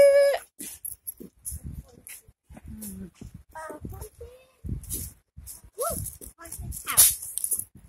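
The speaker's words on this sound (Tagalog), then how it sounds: "May poging aso, ayun!" A dog whimpers and barks in short bursts among lively chatter from several people nearby, on a hiking trail on Lamma Island.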